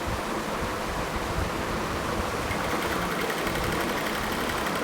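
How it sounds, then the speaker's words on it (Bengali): A sewing machine runs steadily, stitching a sleeve alongside fabric piping, with a continuous close whirring hum and no pauses. "এই পাইপিংয়ের পাশ দিয়েই হচ্ছে আমি এখন সেলাইটা দিব।"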